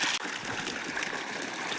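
Irrigation water pumped by a motor runs through a channel in a farm field of bajra, a steady broadband rush and trickle, close and continuous with no talk.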